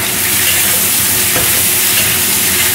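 Shallots and ginger slices being stir-fried with shiitake mushrooms in a hot wok, loud constant sizzling with scraping stirring, close up and dense throughout, no talking.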